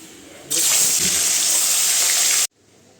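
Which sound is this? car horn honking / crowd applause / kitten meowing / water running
water running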